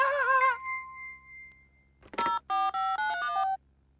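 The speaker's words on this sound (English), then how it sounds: "I'd better get on the phone to the builders" Telephone electronic ring and tones: a warbling chime fades, then a clatter like a handset being picked up, followed by four steady beeping tone bursts, loud and close.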